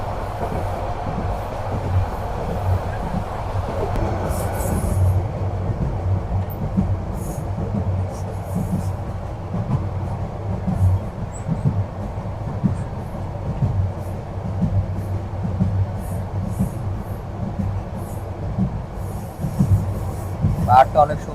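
Inside a moving Cox's Bazar Express passenger train, a steady low rumble and rattle of the carriage runs throughout, with faint wheel clatter and a brief squeal near the end.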